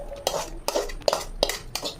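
Fried vegetables tipped out of a metal pan, giving a run of sharp clinks and scraping knocks at uneven intervals, close and moderately loud, with no talking.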